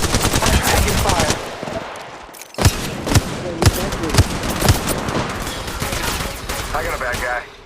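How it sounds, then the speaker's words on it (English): Gunfire in the mobile battle-royale video game Conflict / Apex, with loud close bursts of automatic rifle fire and single sharp shots in rapid clusters, over constant game sound effects and short voice callouts. "Shots fired at me."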